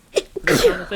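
A single sharp sneeze cuts in close and loud during a casual conversation, with people talking just before and after it.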